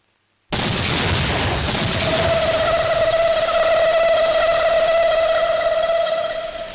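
A bomb blast in a Tamil Vadivelu comedy film arrives as a sudden loud burst, then settles into a long, steady high ringing tone that lasts several seconds with no voices.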